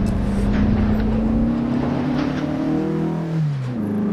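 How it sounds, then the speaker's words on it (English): A 1957 Porsche 356A Speedster engine driven on the Pyynikki track in Tampere, Finland, in Assetto Corsa, droning loud and steady, then revs shifting as the car changes speed, with no talk. "I'm in my beloved Porsche 356A Speedster, the 1957 model here, because I just like driving it on tracks like this."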